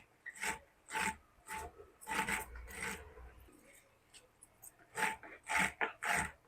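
Fresh radish greens chopped finely with a knife in a home kitchen, a steady run of close, crisp rasping cuts in an uneven rhythm, with a short pause partway through.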